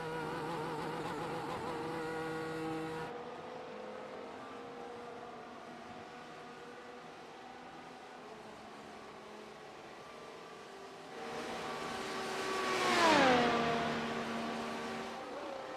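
An F1 car engine heard on board in the iRacing video game at Fuji: a steady, fairly quiet high-pitched engine whine that shifts pitch, then swells into a louder sweeping rise and drop near the end.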